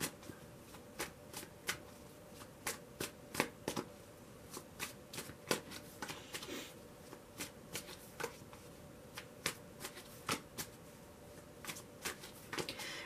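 A tarot deck is shuffled close by in quick, repeated riffles. Soft papery flutters are punctuated by sharp snaps, at a quiet, even level throughout.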